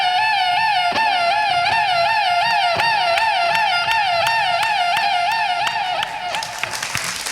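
Violin and flute mimic a police car siren on stage, a fast, rhythmic wobble rising and falling about twice a second, loud and continuous, with a noisier burst near the end.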